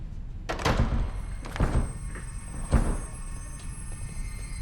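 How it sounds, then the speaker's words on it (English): Several heavy thuds and knocks strike a door as it is broken, with a few spaced impacts of differing strength against a low, rumbling background and no speech. "you broke the door"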